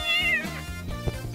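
A frightened cat gives one drawn-out, close meow that rises and then trails off, with a short thump near the end and no voices.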